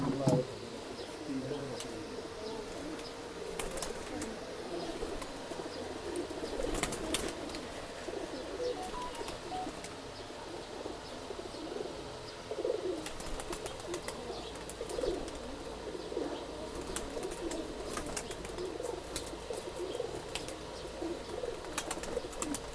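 Racing pigeons cooing in a loft, soft intermittent coos and occasional wing flaps under faint background chatter and distant noise.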